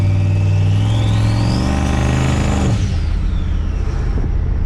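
A Chevrolet Colorado truck with a new turbo accelerates in traffic, the turbo spool rising into a loud whistle that climbs in pitch, then drops away as the engine note falls, heard close from inside the cab.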